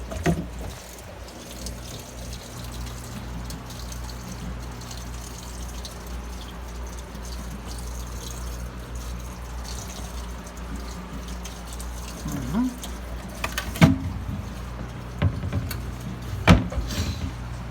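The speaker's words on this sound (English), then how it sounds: "Custom made wet dry filter." A custom-made wet-dry filter on a roughly 100-gallon African cichlid aquarium runs continuously with a soft, even trickle and low hum, with a few faint clicks and splashes near the end and no talking.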